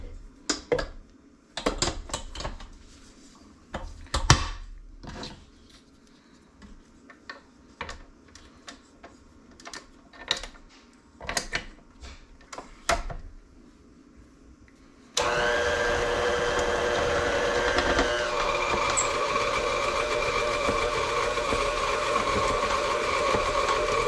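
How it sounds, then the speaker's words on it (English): An electric mixer works dill batter bread dough in uneven bursts of clattering and whirring, then settles into a steady, loud continuous drone for the rest of the stretch. "let the mixer do the rest for about 2 minutes"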